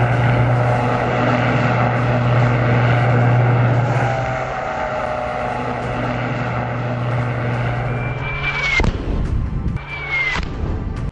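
An Iranian military drone's propeller drones with a steady buzzing hum during a bombing test, then sharp whooshing bursts and blasts punctuate the end.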